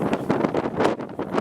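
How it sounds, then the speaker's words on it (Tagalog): Gusty wind on an open hilltop viewing deck at Nuvali overlooking Tagaytay Ridge, buffeting the microphone in loud, uneven pulses of roaring rush. "Mahangin."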